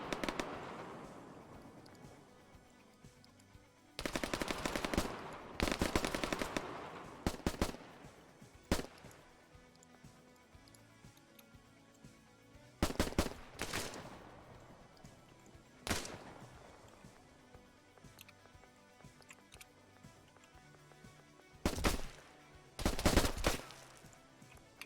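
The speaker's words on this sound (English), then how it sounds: "you should just go to where the gunshots are" Gunfire in the military shooter Arma 3 during a large prison-escape operation: repeated bursts of automatic rifle fire and single shots, some close and loud, others distant, in irregular clusters with quieter gaps between.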